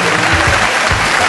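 Loud, continuous clapping from a crowd, dense and steady throughout the short burst.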